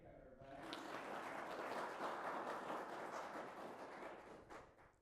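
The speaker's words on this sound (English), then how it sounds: "Give her a hand clap, everybody." Applause from a small audience at an employee awards presentation, a steady, fairly faint patter of clapping that rises quickly and tapers off toward the end.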